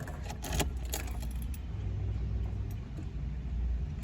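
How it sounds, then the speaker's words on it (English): Keys jangle up close as a key turns in the ignition of a BMW E31 8-series with a V8, followed by a low, steady engine rumble that settles into a quiet idle. "I'm going to start the car for you guys so you guys can actually hear how well this engine does sound"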